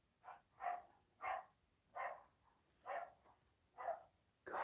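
Dogs barking indoors in a home, a series of about seven short, evenly spaced barks at moderate volume with no talking.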